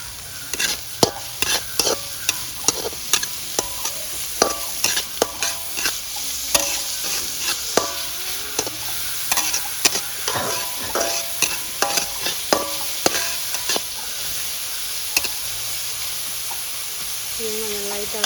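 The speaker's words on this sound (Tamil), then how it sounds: "இப்போ லைட்டாக வதங்கி வந்துட்டு அடுத்ததாக இதுக்கு தேவையான அளவு லீக்ஸை போடுவோம்." Egg kothu sizzles in a pan as leeks are added. Sharp metal scraping and chopping strikes sound in a quick, uneven rhythm over a constant frying hiss, close and loud, with no talk.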